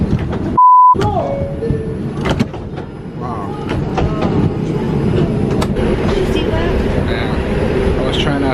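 Inside a passenger train with people boarding, a steady rumble of carriage and rail noise runs throughout, with scattered clunks and voices talking over it.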